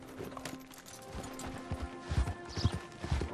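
In the video game Red Dead Redemption 2, horse hooves clip-clop in a steady, quiet rhythm, growing a little clearer toward the end.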